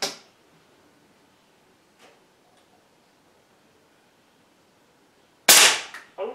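A faint snap early on, then near silence, followed by two sharp, loud air rifle cracks close together at the end, firing slugs.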